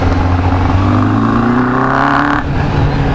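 A 1996 Kawasaki GPX 600R 592cc motorcycle engine revs up close and loud, its pitch climbing steadily through one sustained rev before easing off briefly.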